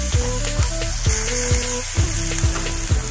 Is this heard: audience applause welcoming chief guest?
no